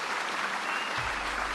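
Steady clapping from a crowd in a Madden American football video game, continuous and even for a moment with no voices over it.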